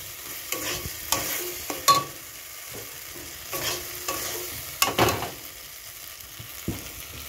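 Ground green pea paste being stir-fried with masala in a pan, with intermittent scraping stir strokes over a soft, steady sizzle, close and moderately loud.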